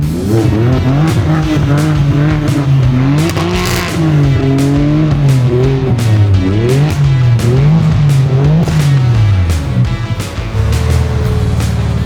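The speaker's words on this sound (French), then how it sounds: "Regardez-moi la petite M3 du Seigneur, du concours. Oh là là, le bruit qu'elle fait." A BMW M3 engine revs loudly and continuously, its pitch rising and falling through repeated throttle blips, close and dominant throughout.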